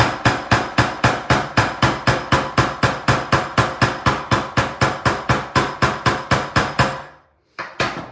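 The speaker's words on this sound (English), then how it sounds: "I'm just gonna hammer out this" Metal hammer striking a SilverSilk wire wrapped pendant on a hard block, about thirty sharp, evenly spaced blows in a steady rhythm, close and loud, then a brief pause and one more strike.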